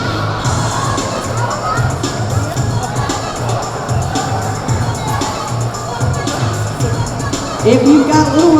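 A roller derby crowd cheers and chatters in an arena, with steady babble and shouts across the whole stretch and a louder rise of voices near the end.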